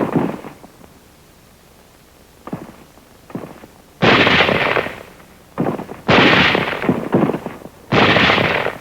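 Wartime sniper gunfire as elements of the 38th Division move inland over rough hill country: a few light cracks early on, then several loud, sharp bursts of shots at irregular intervals, with no talk.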